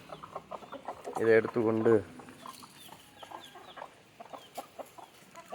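Native country chickens and a rooster cluck in a short burst of harsh calls while being fed grain on a farm, with someone speaking briefly and scattered softer noises around.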